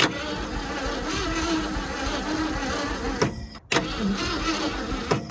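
An abandoned Ford F-150 pickup, left sitting for 22 years, sputters as its engine tries to run, a steady buzzing, rattling drone with a brief dropout near the end before it catches again.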